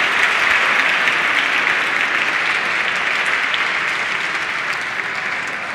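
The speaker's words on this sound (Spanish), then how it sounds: "Fuerte el aplauso para Mónica y para Olivia." Steady, sustained applause from an audience at the CyberOlympics awards ceremony, a dense even wash of clapping that fades slightly toward the end.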